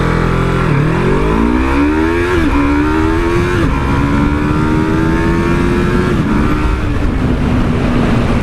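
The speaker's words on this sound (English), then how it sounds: "I'm going into full tuck and I'm going up into third gear to hit 60 miles an hour" A Yamaha R3 motorcycle accelerates hard in full tuck toward 60 mph, its engine loud and close with a rising whine that drops at each upshift into third gear, wind roaring steadily underneath.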